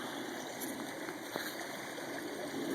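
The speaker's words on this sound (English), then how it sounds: "there it is again, the mighty American River" The American River flows with a steady, moderate wash of rushing water, broad and continuous, with a few faint ticks and splashes and no voices.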